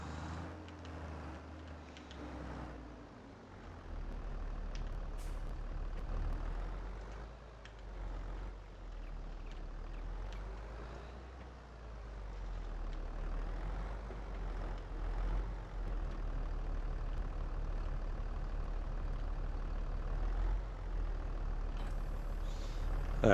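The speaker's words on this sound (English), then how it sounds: "So what I'm going to do is actually get in this tractor." Low, steady tractor engine rumble in Farming Simulator, droning continuously at moderate level with slight rises and dips, mechanical clanks and faint intermittent tones above it, and no talking.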